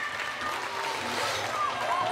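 A Ninja Warrior Switzerland studio audience cheers and applauds in a steady, dense roar that holds at an even level for the whole stretch, broad crowd noise with no single voice standing out.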